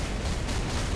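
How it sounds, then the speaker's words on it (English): A video game explosion in Marvel Future Fight, a loud, dense, continuous blast rumble with broadband roar filling about one second, no voices over it. "And explosion and go."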